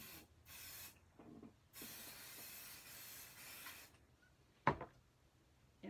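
Three close hissing bursts of spray, the last one longest, with short pauses between them, then a brief clunk.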